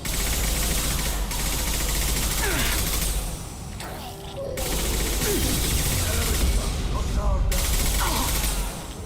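Gunfire in a video game: a steady, dense crackle of shots and bursts runs almost the whole time, with a brief quieter gap in the middle.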